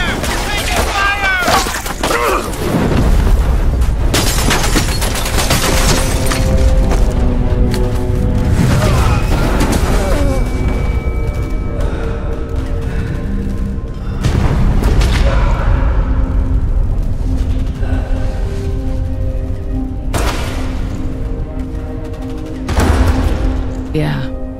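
Bombs burst during a Wasteland 3 video game battle, a run of heavy booms and crashing blasts mixed with gunfire bursts, loud and close, with game voices and shouting over parts of it.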